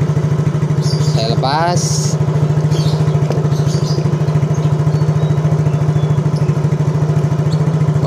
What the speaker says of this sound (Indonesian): Ini motornya nyala ya.